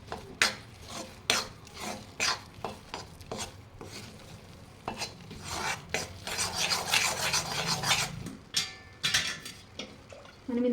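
Roasted gram (putnala pappu) is stirred in a pan over a low flame for laddu, with repeated sharp scraping and rasping strokes of a utensil in an uneven rhythm, close up, with no talking.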